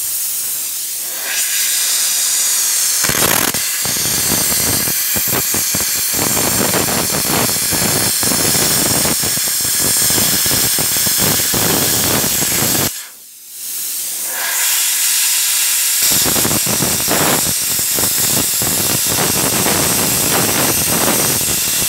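A loud, steady roaring hiss of a plasma cutter cutting metal runs almost continuously, with crackling bursts, briefly cutting out once midway before resuming.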